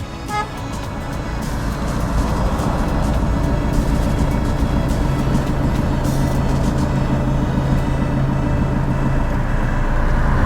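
A manual car's engine hums steadily as it reverses slowly under half clutch, a loud, continuous low drone that rises slightly after the start and holds, with no speech.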